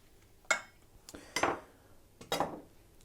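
Chopped carrots and onions in olive oil being stirred in a pan, with three clear scraping clinks of a utensil against the pan, spaced about a second apart, close and fairly quiet with no voices.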